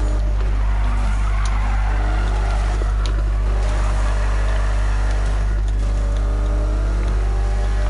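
Dodge Challenger with 1,400 horsepower in the Need for Speed racing game, a loud, steady engine drone with a strong low rumble held throughout, rising and shifting slightly at times, with no talk.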